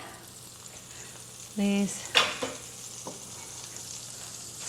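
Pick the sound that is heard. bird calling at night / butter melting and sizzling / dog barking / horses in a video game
butter melting and sizzling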